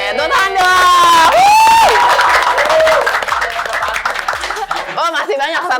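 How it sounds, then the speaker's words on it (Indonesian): An audience at a campus talk show claps and cheers while loud singing-like voices and whoops ride over the top, with a busy, crowded, lively texture throughout. "Oke, tepuk tangan dong."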